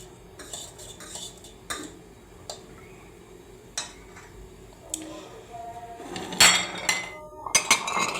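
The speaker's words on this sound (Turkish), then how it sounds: "Şöyle pudingimizi de karıştıralım." Light metallic clinks and taps of a spoon stirring pudding in a glass, irregular and close, with a few brighter scraping clatters toward the end.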